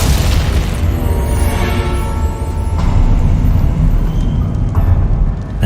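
Confringo blasting spell explosion in the video game Hogwarts Legacy, a loud, sustained booming burst with crackling debris filling the whole stretch.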